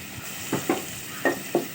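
Ground spices frying in oil in a pan alongside okra, with a soft sizzle and four quick spatula scrapes in close succession, without talk.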